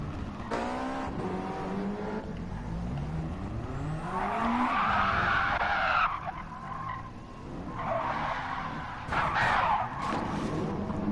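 Race cars in a 1994 BTCC retro racing video game at Monza squeal their tires through a handbrake slide. Engine whine rises and falls under long screeching skids in two or three bursts, at moderate level with no talk.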